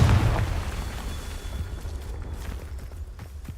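A fiery blasting-spell explosion in the Hogwarts Legacy game bursts loud and close with a deep boom at the start, then fades into a long rumbling tail with faint crackles.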